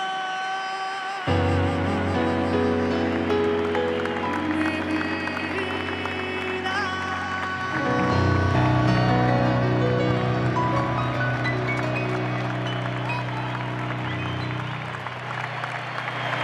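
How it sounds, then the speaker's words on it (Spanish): Crowd applause at a tribute event, a steady, sustained wash of clapping that swells midway, mixed with loud music playing throughout. "Fuerte ese aplauso."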